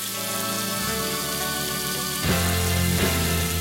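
Carrots, celery, garlic and onions sautéing in a pan for braised short ribs, heard as a continuous close sizzle with a steady rain-like crackle, growing a bit louder partway through.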